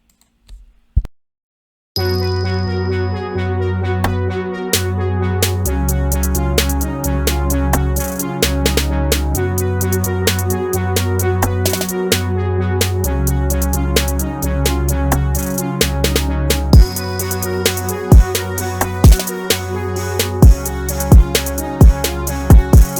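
A loud hip hop beat made in FL Studio plays back, with a booming bass line, crisp snappy drum hits and rapid ticking hi-hats in a steady, repeating groove.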